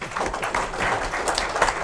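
Applause at a county freeholders' public reorganization meeting, a soft, continuous patter of many hands heard from some distance, moderately quiet, with no talking over it.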